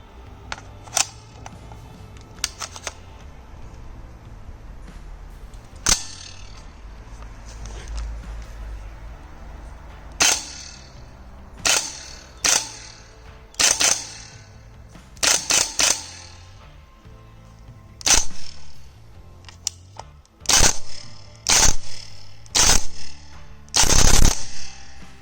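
A GBLS GDR 416 gel blaster with a steel bolt and stock buffer fires in sharp, loud single shots and short rapid bursts, spaced unevenly. The shots snap cleanly against a quiet background with no talking.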